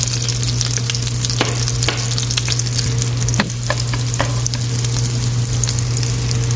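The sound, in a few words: garlic sautéing in butter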